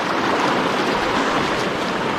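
A cold mountain creek in Colorado rushes steadily, a dense, even wash of flowing water close by with no pauses or voices.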